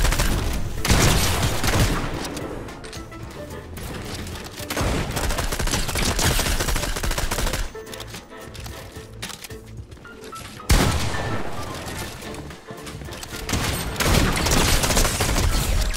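Fortnite shotgun fire: loud, repeated blasts in dense bursts with brief pauses between volleys, and no one talking.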